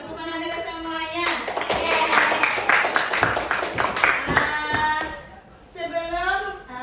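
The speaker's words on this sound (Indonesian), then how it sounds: "Tepuk tangan dulu semuanya." A classroom of children claps their hands together in a lively burst, loud and close, with a teacher's voice speaking before and after the clapping.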